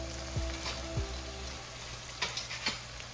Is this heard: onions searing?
yes